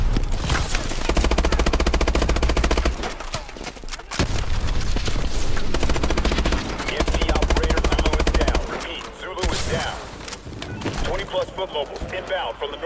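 Heavy automatic gunfire and rapid bursts from the video game Call of Duty Advanced Warfare, loud and sustained in long volleys with brief pauses, under shouted voices and battle chatter.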